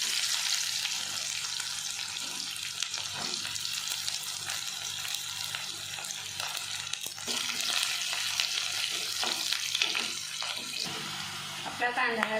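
Onion and reddened garlic fry in a pan for a wild chigal leafy-greens bhaji, a continuous hissing sizzle with a few soft scrapes and clunks of stirring throughout.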